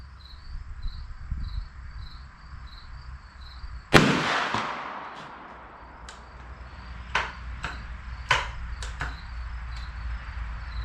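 A single sharp .410 slug shot from a New England Firearms SB1 shotgun with full choke rings out outdoors and decays, followed by a few light metallic clicks, with crickets chirping steadily throughout.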